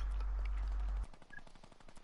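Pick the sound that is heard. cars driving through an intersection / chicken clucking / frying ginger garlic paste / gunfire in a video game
gunfire in a video game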